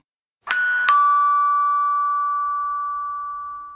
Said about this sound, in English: Milo rang the doorbell.